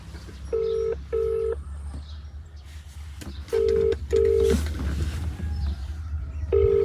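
Electronic phone tones sound in short steady beeps, mostly in pairs with pauses between, over a low background hum, like a call being dialed on speakerphone.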